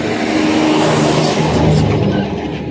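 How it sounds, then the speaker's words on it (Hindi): A large truck passes along a road while traffic waits, its engine noise loud, close and steady throughout with a broad rumbling roar that swells slightly midway and eases toward the end. "बड़ा गाड़ी निकल रहा था तो वेट करना पड़ा था।"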